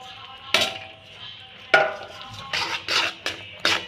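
Crushed peanuts are stirred into jaggery syrup in a pan for peanut chikki, making a handful of scattered clinks and scrapes of a spoon against the pan at irregular intervals.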